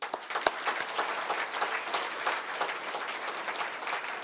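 Audience at a university launch event breaks into warm applause, a dense patter of many hands clapping at moderate distance, with a few sharper individual claps near the start.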